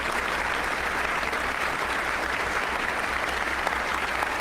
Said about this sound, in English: Yeah, it's like a walrus clap!